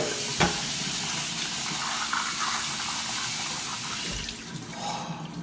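Tap water running steadily into a sink while soaked almonds are rinsed, a continuous close splashing hiss with a brief clatter near the start and a shift in the flow toward the end.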